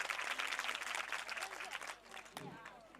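An audience at a Swaminarayan women's temple gathering bursts into dense, lively applause that thins out after a couple of seconds, with voices mixed in.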